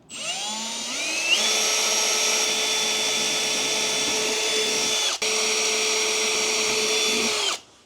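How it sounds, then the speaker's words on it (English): A power drill drilling holes in a Toyota 4Runner whirs steadily for several seconds after spinning up, with a brief dip mid-run before winding down, loud and close. "So I'm gonna drill a couple holes in here and try and bolt this up"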